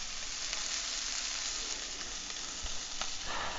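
Scallops fry in butter in a pan in a home kitchen, giving a steady, bright sizzle with faint stirring scrapes, moderately close and without voices.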